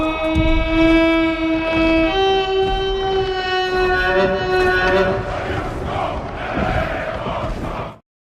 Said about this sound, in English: with the horns of war sound